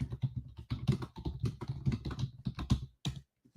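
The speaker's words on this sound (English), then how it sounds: "I'm typing in our chat" Rapid typing on a computer keyboard in an irregular run of sharp close clicks, pausing briefly near the end, with no talk.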